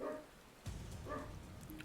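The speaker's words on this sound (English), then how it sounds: "Sorry if you can hear my dog." A dog excited because his owner's wife is home gives a few faint, distant barks and yips with pauses between them.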